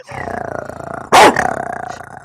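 A person imitates a dog's bark with a single loud, harsh bark in the middle, standing out against steady background music before and after.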